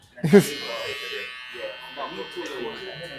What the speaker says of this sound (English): right now, to shape him up, I'm using a Wahl, the black, should I say, Wahl cordless detailer